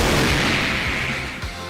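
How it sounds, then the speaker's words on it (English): Suffocating Fumes exploding in the video game Blox Fruits, a dense booming blast with rumbling low thuds and a short follow-up pop, loud and continuous. "And it makes the Suffocating Fumes explode."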